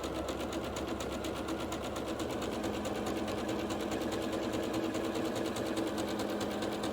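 A sewing machine stitching a quilt seam with a wide stitch runs continuously at a fast, even rhythmic whir, close and fairly quiet, with no talking.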